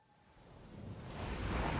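Heavy rain in a storm builds from a light patter into a loud, dense roar, with low rumbling thunder swelling underneath toward the end. No voices.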